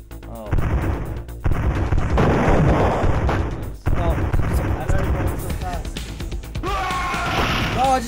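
A spaceship cannon fires repeatedly in the space combat game The Ur-Quan Masters, loud booming blasts in irregular bursts with voices talking between and over them.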